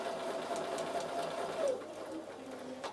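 Domestic sewing machine stitching steadily during a controlled quilting demonstration, a continuous close mechanical whir with no pauses and no talking.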